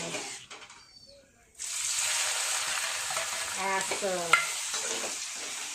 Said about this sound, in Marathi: आता आपलं तेल तापलेलं आहे मी आता शेंगदाण्याचं कूट केलेलं आहे मी तेलामध्ये टाकते